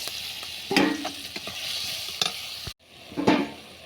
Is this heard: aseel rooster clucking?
no